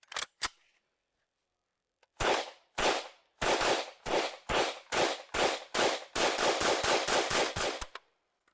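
FN P90 fired during a live fire demonstration: two quick early shots, a pause, then spaced single shots speeding into a rapid string of loud, sharp reports, close by.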